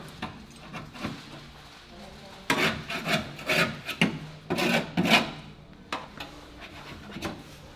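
Metal on a car is scraped and sanded back to bare metal before welding, giving rough, uneven bursts of rubbing and rasping close by, with a voice heard faintly.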